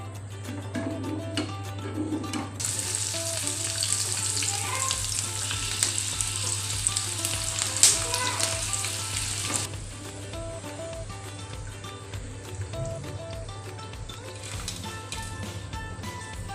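Okra (vendakkai) fries in a pan on a low flame: a continuous close sizzle with occasional stirring scrapes, and no talking throughout.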